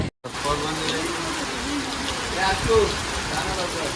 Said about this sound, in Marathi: सो पाऊस आता परत चालू झाला आहे